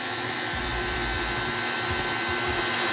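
A KitchenAid stand mixer blends pumpkin muffin batter. It produces a steady, close motor whine with a faint rhythmic churning underneath, running continuously and without talk.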